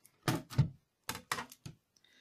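A diecutting machine has a cutting plate cranked through it in a run of dull mechanical clunks, two pairs of knocks and a softer one, close up against a quiet room.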